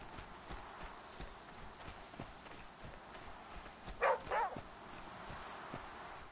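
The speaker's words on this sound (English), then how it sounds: "Damn, he's barking. I don't see what you're barking at." A dog in The Flame in the Flood gives two short barks at middle distance over a quiet game background, with faint regular footsteps.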